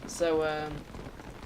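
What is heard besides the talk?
rain in the video game Don't Starve, about to stop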